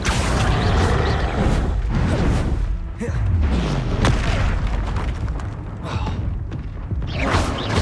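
A Confringo fire spell detonates in Hogwarts Legacy, dense booming blasts and thuds layered over continuous loud combat noise, with a voice briefly heard among the effects.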